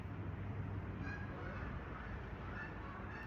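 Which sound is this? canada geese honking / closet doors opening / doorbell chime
canada geese honking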